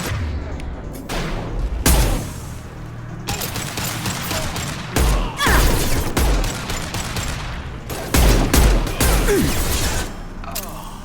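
Gunfire in the Mass Effect 2 video game, with repeated dense bursts of shots and heavy booms including a grenade explosion, loud and close, with brief gaps between volleys.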